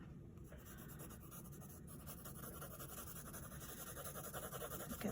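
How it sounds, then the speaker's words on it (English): Pencil shading on paper with the side of the lead, a soft continuous scratchy rubbing that runs steadily throughout, close and quiet, with no talking. "you can take that side of your pencil and do a light shading"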